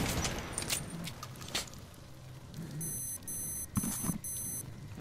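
A gas mask filter warning in Metro Last Light sounds as a series of four short, high electronic beeps, each a quick cluster, over quiet ambient game noise after a few soft thuds.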